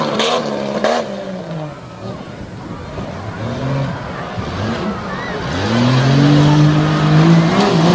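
An off-road truck races through a competition course at an Abbottstown, Pennsylvania event, its engine revving and climbing in pitch as it accelerates, loud and close, with a commentator talking over it and crowd noise behind.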